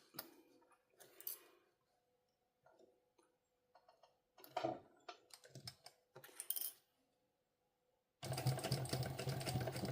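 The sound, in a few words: sewing machine stitching a sling pouch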